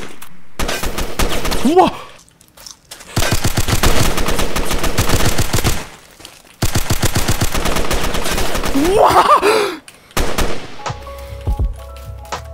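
AK rifle fire in the Roblox game Fallen Survival crackles in loud, close automatic bursts, three long strings of rapid shots separated by brief pauses, with a player's short exclamation in between.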